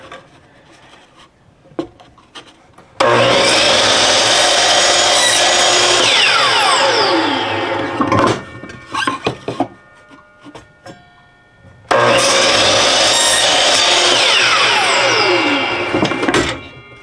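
A power saw cuts through wood in two long, loud, steady runs, separated by brief clunks and handling noises.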